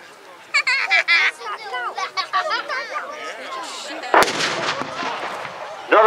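Guns of CVRT armoured vehicles firing at a tanks, trucks and firepower show, heard as sharp loud reports at about 0.5 s, 4.2 s and 6 s over busy crowd chatter and other display noise.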